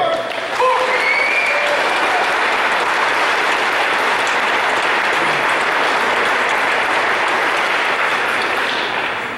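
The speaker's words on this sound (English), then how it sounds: "another round of applause for the Patriot Guard" A crowd at a steak fry honoring a fallen army captain gives the Patriot Guard a sustained round of applause, dense and loud from start to finish, with a few brief shouts near the beginning.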